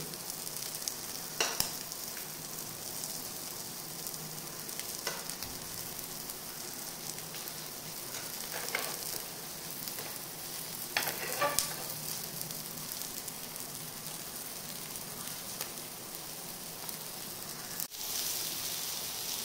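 Seer fish sizzles steadily on a hot tawa, a continuous frying hiss with occasional sharp pops and crackles, close and moderately loud with no talking.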